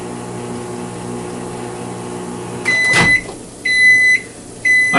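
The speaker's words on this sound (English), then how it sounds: "there's nothing I can do about the microwave beeping" A microwave oven beeps while milk heats inside: after a low steady hum, a clunk lands, then two long electronic tones sound alone, loud and close, the second cut off at the end.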